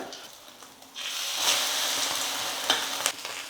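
An omelette sizzles in oil in a pan after being flipped, starting quiet and then jumping into a loud, steady, close frying hiss with a few sharp crackles and pops.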